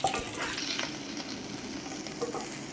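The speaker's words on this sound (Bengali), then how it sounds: "সেই পেঁয়াজ আর ক্যাপসিকামটা ভেজে নেব" Chopped onion and capsicum fry lightly in a pan over low heat, giving a steady close sizzle with the soft scrape of stirring now and then.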